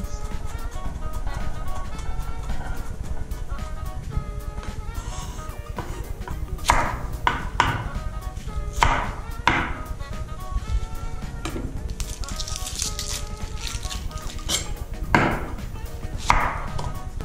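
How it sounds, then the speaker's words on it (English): A knife chops celery and onions on a cutting board for marinara sauce, giving irregular sharp taps that come in quick clusters and then pause, heard close up over a quiet background. "Chop celery into pieces, and then it's time for the onions."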